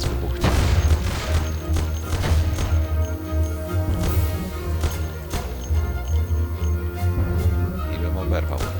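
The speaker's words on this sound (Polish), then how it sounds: "że to zaraz wybuchnie" Car explosion in the video game Mafia: loud booming blasts and crashing bursts over a continuous low engine-like rumble and game music, with sharp impacts repeating through the clip.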